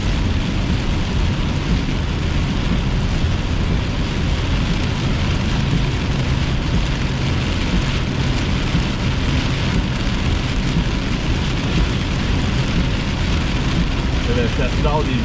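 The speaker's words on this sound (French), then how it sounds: "Donc, on vient de traverser la zone de pluie forte." Heavy rain drums steadily on a car during a tornado chase, a loud, dense, unbroken roar that fills the whole stretch.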